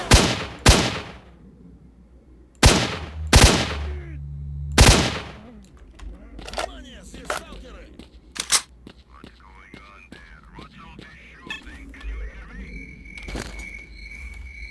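Gunfire in S.T.A.L.K.E.R. Shadow of Chernobyl: several loud, close shots in the first five seconds, then scattered distant pops and clatter with faint voices in the background.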